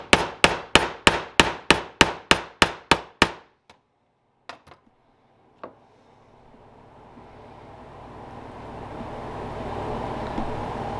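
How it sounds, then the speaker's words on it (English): Rapid, evenly spaced metallic taps ring out on a tube being shaped by hand without a mold, about a dozen quick strikes, then a few scattered knocks before a low rising background noise takes over. "We're just gonna tappy tappy tappy tappy tappy tappy tap."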